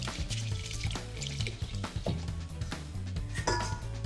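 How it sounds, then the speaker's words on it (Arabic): Green freekeh being washed and drained in a strainer: water splashes and trickles amid metallic clinks and knocks of the strainer and pots, close by with no talking. "نرجع بنصفيها وبتركها شوي على جنب تتصفي المي منها كله."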